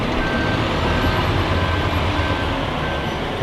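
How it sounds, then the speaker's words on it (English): A bus swings into the new Crewe bus station, its engine rumbling steadily close by with a reversing beep sounding over the constant low drone. "We've got another bus coming in."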